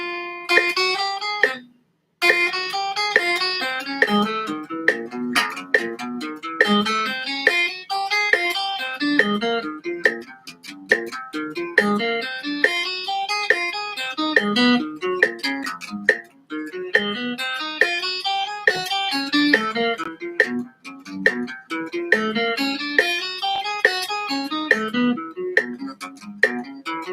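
A guitar finger exercise at 70 beats per minute: steady picked single notes climbing and descending in repeating patterns for nearly half a minute, close and clear, with one brief pause near the start.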